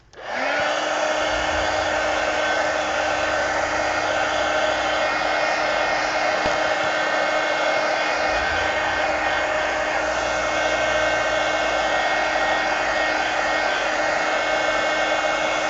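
A hair dryer blows steadily and loudly at close range, drying a mixed media fantasy painting in a book, running unbroken from start to finish with no talk.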